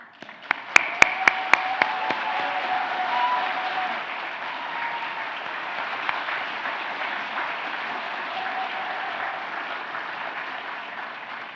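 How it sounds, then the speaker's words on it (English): Applause at a graduation ceremony for digital arts and digital technologies graduands: a few sharp, close claps ring out first, then a full hall joins in with steady, even clapping that holds throughout. "Graduands, please join me in giving your professional team a round of applause"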